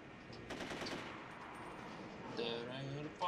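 Rapid gunfire in the video game The Getaway, heard as faint, quick bursts of shots with a rattling rhythm over a low background hum.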